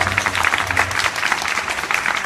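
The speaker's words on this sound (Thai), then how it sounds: "ขอเสียงปรบมือ ดังๆให้สองหนุ่มน้อยของเราด้วยค่ะ" An audience at a Chiang Mai book event gives two young performers a sustained round of applause, a dense wash of many hands clapping at moderate distance.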